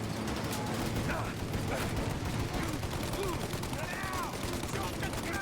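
A machine gun turret fires in a Mafia: Definitive Edition game battle, with sustained rapid bursts of gunfire under steady mechanical clatter and background noise, while a voice shouts over the shooting.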